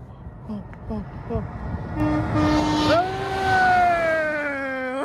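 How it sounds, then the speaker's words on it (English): A truck's air horn blares loudly and holds for a couple of seconds, following excited shouting, with road noise throughout. "He gave us a honk."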